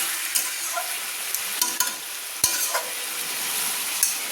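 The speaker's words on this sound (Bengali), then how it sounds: "এইভাবে চিকেনগুলো দিয়ে কিন্তু আমি 2-3 মিনিট মাঝারি ফ্লেমে নেড়ে দিয়েছি" Chicken pieces fry over a medium flame in onion and oil while being stirred, a steady close sizzle broken by scraping and clinking of the spoon against the pan.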